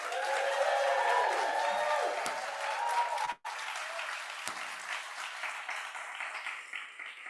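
An audience at an evening small business pitch competition breaks into loud sustained applause with cheering, the clapping dense and strong at first, cutting off briefly, then continuing more thinly and fading toward the end.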